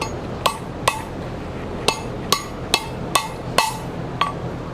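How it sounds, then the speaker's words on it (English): A horseshoe being hammered on an anvil, eight bright ringing metallic strikes at an uneven, unhurried pace, close and clear over a quiet background. "All right, we'll do it on the anvil."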